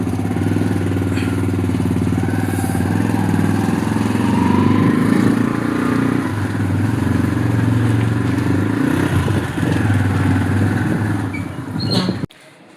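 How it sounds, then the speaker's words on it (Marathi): A motorcycle engine runs at a steady idle, a loud close rumbling drone that holds for several seconds before cutting off abruptly. "चलो हमने बाइक निकाली है"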